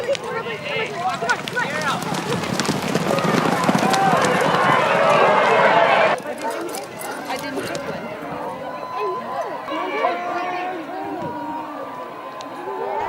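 Racehorses galloping past in the 5th race at Desert Park in Osoyoos, a loud rush of hooves and crowd noise that builds then drops to a lower, steadier din with scattered voices.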